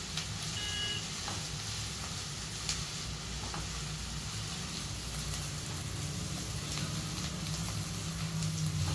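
Corn and vegetables frying on a high gas flame, a continuous loud sizzle and crackle with occasional soft stirring scrapes, steady throughout and close.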